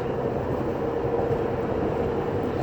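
A steady, broadband rumble of oversized tires on pavement at 60–65 mph, heard from inside a vehicle with windows up and AC off, a continuous, even drone.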